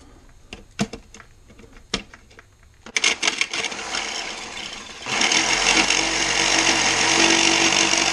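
A tool trims a plastic vacuum cleaner hose piece, starting with scattered sharp clicks and scrapes, then moving into dense, loud, continuous rasping and grinding up close.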